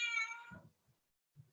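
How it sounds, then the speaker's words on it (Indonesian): A cat gives one clear, drawn-out meow close to the microphone during an online group meeting, followed by a few soft low bumps and a brief quiet gap. "ada suara kucing"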